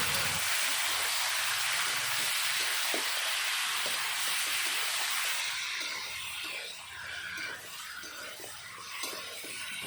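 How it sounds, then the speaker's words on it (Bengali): Marinated chicken drops into a pan of fried potatoes and onions, setting off loud, steady sizzling and frying with occasional stirring scrapes. The noise runs close throughout and eases slightly toward the end; no one speaks. "পেঁয়াজের সাথে আলু ভেজে নিয়েছি, এখন দিয়ে দেব মেখে রাখা মাংস।"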